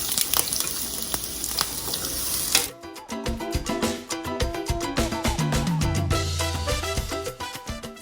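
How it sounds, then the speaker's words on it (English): Onion and garlic frying in hot oil on medium heat for cheese enchiladas: a bright, hissing spatter at first, then a busy rattle of stirring and popping close up, with no talking. "all the sides of the onion and the garlic are getting browned and releasing all the yumminess into the oil"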